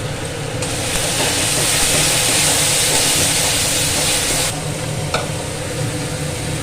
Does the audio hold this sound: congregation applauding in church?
no